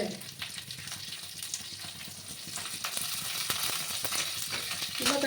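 Cumin seeds and curry leaves sizzle and crackle in hot oil in a home kitchen, a steady bubbling hiss with scattered pops that grows a little louder toward the end, heard alone without talk.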